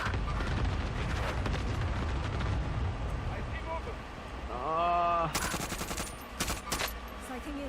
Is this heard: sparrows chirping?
no